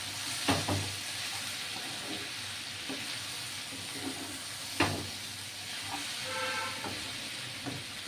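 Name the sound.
frying chilli, spices and vegetables in a pan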